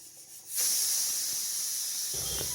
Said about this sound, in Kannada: ವಿಷಲ್ ಬಂತು